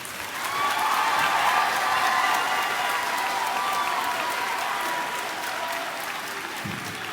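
An audience at a high school graduation claps steadily and warmly, a sustained round of applause that swells quickly and slowly tapers.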